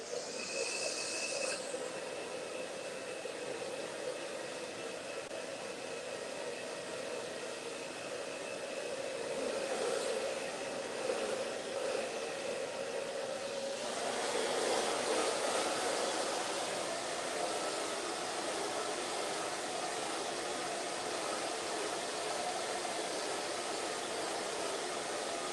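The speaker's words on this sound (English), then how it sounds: "So I'm going to hit a little bit of blower dry." A handheld hair blow dryer on medium heat runs steadily with a continuous airy whir, growing slightly louder midway as it nears, with no talk.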